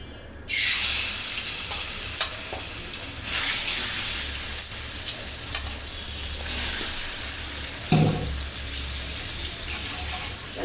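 Chicken frying in oil in a silver pot, a steady close sizzle running throughout with occasional scraping and clanking as the pieces are stirred.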